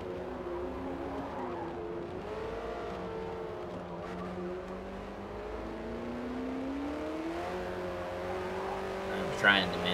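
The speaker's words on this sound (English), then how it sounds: "I'm trying to manage the throttle, but even barely pushing on it, it's got the tires spinning up" Lola race car in the Forza racing game, its engine droning steadily with shifting revving pitch as the tires spin up, a continuous loud whine throughout with a short sharper burst near the end.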